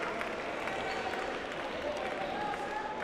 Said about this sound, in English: the Ram Nation faithful behind us, clapping and cheering